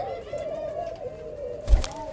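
A pet pigeon with a yellow leg band coos close by, a soft sustained throaty warble running across the clip, ending with a brief rustle near the close.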